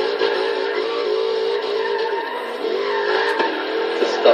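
Jaguar F-Type drifting in Forza Horizon 3, a steady engine drone with shifting pitch and faint tyre scrub, continuous and fairly loud throughout.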